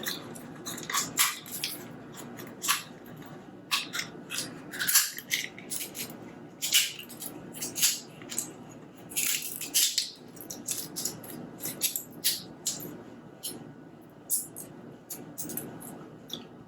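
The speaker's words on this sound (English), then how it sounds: "you use your fingers in your palm and you gently crack this open" A dry tamarind pod is cracked open by hand, with a series of brittle crackling snaps and rustling bursts from the shell coming close and fairly quiet, with short pauses between them.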